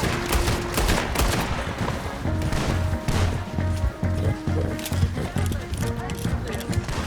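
Gunfire during a chase in the video game Red Dead Redemption 2, dense overlapping shots and bursts mixed with hoofbeats and shouting voices, loud and continuous throughout.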